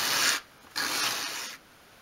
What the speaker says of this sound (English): hold the skirting at a 45 degree angle against the sandpaper and just sweep it towards you